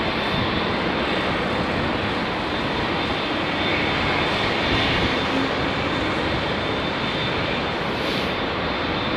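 A WestJet airliner at Heathrow in low visibility gives off a steady, loud jet engine roar that holds evenly throughout, close and unbroken, with no voices.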